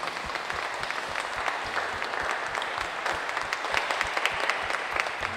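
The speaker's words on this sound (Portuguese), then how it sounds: "É a nossa salva de palmas, a palavra de Deus." A church congregation claps together during a novena Mass for Our Lady of Aparecida, a steady round of many hands with individual claps standing out, continuous and moderately close, with no voices over it.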